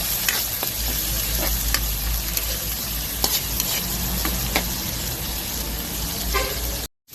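Alamang shrimp paste stir-fried in a home-cooked ginisang ampalaya with tomato and egg: a steady close sizzle and frying crackle runs throughout, with intermittent scraping and clinking of a spatula stirring in the pan.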